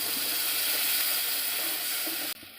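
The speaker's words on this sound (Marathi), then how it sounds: "पाणी पण घालायचं आहे" Water is poured into besan pithla, a gram flour dish cooking in a pan, making a steady, close rushing pour that runs unbroken for about two seconds and then cuts off abruptly. No one speaks.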